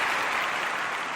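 Steady, dense applause fills the whole short moment, close and loud with no gaps, a continuous wash of clapping and no voices over it.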